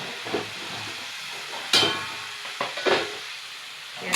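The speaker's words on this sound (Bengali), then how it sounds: "তাহলে কাঁচা লঙ্কা দিয়ে একটু নেড়ে দেবো" Green chillies stirred in a pan of fish curry made with tomato, a steady close sizzle and hiss broken by several scraping stirs and clatters of the spoon.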